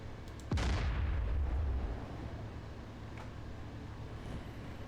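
A single tank cannon shot in the DCS Combined Arms combat game: one sharp, heavy boom followed by a deep rumbling tail that fades over about a second and a half, leaving faint background hum.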